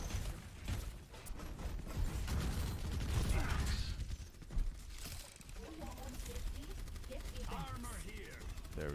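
Torbjörn's turret in Overwatch fires rapid mechanical bursts amid game effects and clanking, fairly loud and continuous, with a voice talking over parts of it.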